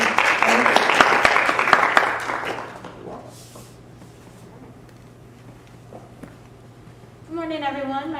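An audience claps at a high school senior capstone presentation, a dense burst of applause that fades out after about three seconds, leaving a quiet room before a voice begins.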